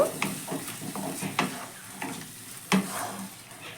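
Masala being stirred with chili sauce and soy sauce in a pan: a soft, steady sizzle broken by occasional scraping strokes every half second or so, close but moderately quiet.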